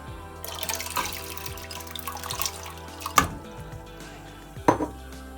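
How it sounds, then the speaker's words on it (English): Soaked red peas dropping into a pot of water for boiling rice and peas, giving a few splashes and drips with two sharper plops near the middle and end, heard close up without talk. "So right about now we're gonna put in the peas in the pot to boil."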